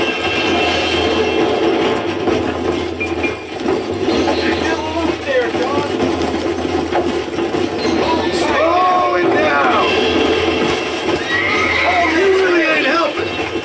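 A wild horse in Red Dead Redemption whinnies and neighs repeatedly amid clattering hooves and game mechanics, while a player talks over much of the struggle.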